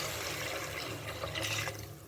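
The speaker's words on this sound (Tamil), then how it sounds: "இப்போ பார்த்தீங்கன்னா நான் 1 லிட்டர் அளவுக்கு தண்ணி ஊற்றுறேன்." About a litre of water is poured into a cooking pot of sautéed mutton, onion and tomato for Ramadan nombu kanji, a brief, steady rushing splash heard close by.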